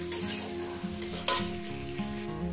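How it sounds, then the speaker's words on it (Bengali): Onions fried with salt in a pan for cauliflower chicken, a steady close sizzle with stirring scrapes and a couple of brief clatters, no talk. "এটাকে আমি সুন্দর করে ভেজে নেবো পেঁয়াজটাকে লাল লাল করে"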